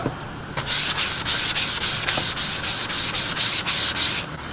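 Close, steady rhythmic sanding of a KBD SRT front bumper for a Dodge Charger being prepped for paint, with repeated back-and-forth strokes running continuously and loudly for several seconds.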